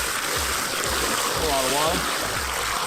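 Water pours from a 5-gallon bucket into a DIY solar food waste digester, a steady broadband rush and splash running throughout at close range, with a brief voice over it.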